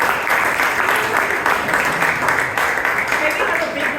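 Applause from members at a Toastmasters club meeting in Bangalore, a continuous round of dense clapping with some voices mixed in.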